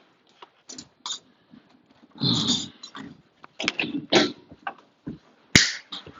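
A dog barks in sharp bursts at close range, several separate yelps and a longer growling bark, with quiet gaps between them.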